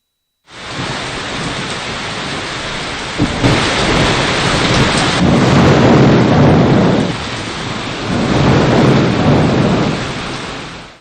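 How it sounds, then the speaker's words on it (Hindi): A thunderstorm drives torrential rain and strong winds over Srinagar. Loud, dense rainfall roars continuously with heavy rumbling swells rising and falling, and there is no talking. "तेज हवाओं के साथ होने वाली मूसलाधार बारिश ने मौसम का अंदाज यकसर बदल कर रख दिया"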